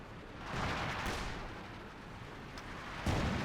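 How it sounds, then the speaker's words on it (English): Artillery fire coming down in Company of Heroes 2, with distant rumbling impacts blending into a steady low roar and a sharper blast near the end. "Artillery currently coming down."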